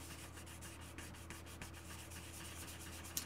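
Fine 800-grit sandpaper rubbed over a wax-coated painted surface for a chipping effect, giving a steady soft scratchy rasp of quick repeated strokes, close and fairly quiet, with no talking.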